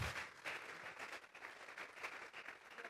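A church congregation claps together in a sustained, dense round of applause that carries on steadily throughout, moderately distant and filling the room.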